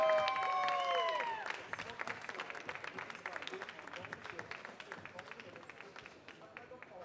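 Applause from an audience at the 2016 WCIGS France final, greeting a competitor. Steady scattered clapping runs throughout, with a voice speaking over it at the start and a faint babble of the crowd beneath.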